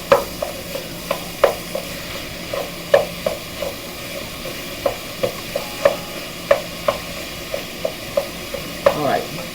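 Ground beef browning in a pan for lasagna soup, a constant low sizzle punctuated by regular spatula taps and scrapes against the pan, close by with no talk.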